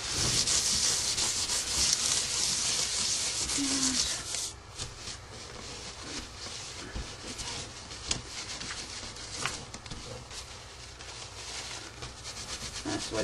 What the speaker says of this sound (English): Wiping it off really quick so I don't have to do it later.